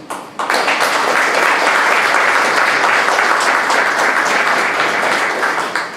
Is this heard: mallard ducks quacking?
no